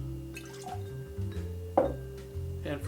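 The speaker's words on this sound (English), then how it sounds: "I'm going to pour in 3/4 ounce of freshly squeezed lime juice." Freshly squeezed lime juice poured from a measure into a margarita mixing glass, a short quiet liquid trickle and splash, faint and close, with low background hum.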